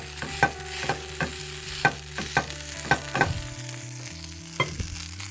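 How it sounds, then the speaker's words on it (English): A folded taco tortilla pan-frying in coconut oil, a steady sizzle broken by repeated sharp clacks and scrapes of a utensil against the pan, close and unaccompanied by speech. "we are going to just let that fry for a minute"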